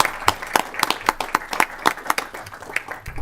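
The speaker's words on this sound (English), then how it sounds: "I think she deserves a round of applause for everything she's done" Scattered applause from a small state senate agriculture committee for a departing official, sparse individual hand claps at an uneven rhythm, close and fairly loud in a quiet room.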